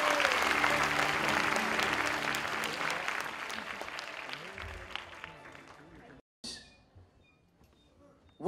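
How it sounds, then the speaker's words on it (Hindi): A crowd gives loud, sustained applause for actor Anupam Kher at an event with special children, gradually thinning and fading out, followed by a few brief scattered sounds and silence. "अनुपम खेर जी के लिए जोरदार तालियां होनी चाहिए"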